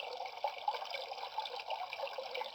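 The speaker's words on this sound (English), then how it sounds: "The brook." Water from a brook flows and trickles in a steady, gently bubbling stream, close and moderately loud, with no voices.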